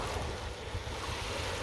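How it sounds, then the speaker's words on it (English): Waves stirred up by a boat's wake wash and crash against the shore, a steady broadband rush mixed with wind noise on the microphone, with no voices. "the waves just are crashing because a boat just went by"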